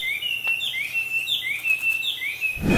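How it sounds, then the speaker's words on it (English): Birds of the Amazon rainforest sing in clear, close, repeated whistled chirps and sweeping notes that follow one another steadily, with a low thump at the very end and no talk. "Some birds chirp,"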